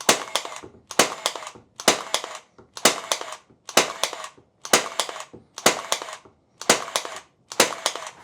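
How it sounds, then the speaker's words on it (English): Nine sharp pneumatic snaps from a Milwaukee M12 23-gauge pin nailer firing at a steady rhythm, each followed by a brief mechanical hiss and rattle, loud and close with no talking. "As soon as I fire that nail, I can move."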